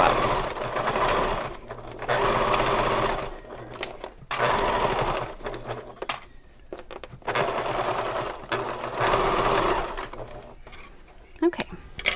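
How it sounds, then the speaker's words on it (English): Sewing machine stitching a straight seam on a fabric bag, running in several steady bursts separated by short pauses and small handling clicks, close and fairly loud. "Make this seam as straight as possible."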